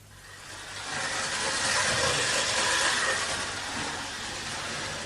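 Steam trains run in a radio drama sound effect, a steady hissing rumble of rolling carriages that swells after the first second and stays loud and continuous.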